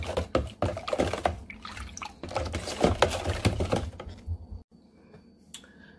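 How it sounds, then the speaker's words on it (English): A spoon stirring sorrel drink in a container gives close, busy clinks and sloshing for about four seconds before stopping, followed by a few faint taps. "I'm gonna get my spoon and I'm gonna stir this"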